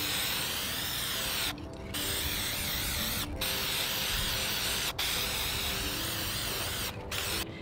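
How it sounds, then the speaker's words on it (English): Looking glass spray paint hisses from an aerosol can onto glass outdoors, several long sustained bursts separated by brief pauses, close and fairly loud with no talking. "I'm gonna try to make it look like a mirror using this looking glass spray."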